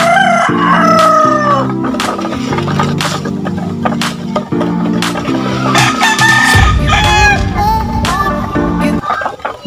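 Rhode Island Red chickens crow and cluck loudly and close by, with several overlapping calls in a continuous, busy stretch of farmyard noise.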